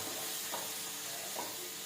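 Coriander powder and garam masala fry in oil over a low flame for a potato capsicum gravy, giving a steady, even sizzle. Two soft stirring swishes rise briefly above it.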